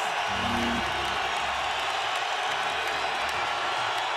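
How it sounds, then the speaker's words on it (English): An arena crowd at a 2008 Lakers vs Nuggets playoff basketball game, a steady roar of cheering and noise filling the space, with a commentator talking over it. "Hear the crowd now"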